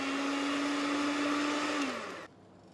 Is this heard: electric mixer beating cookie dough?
yes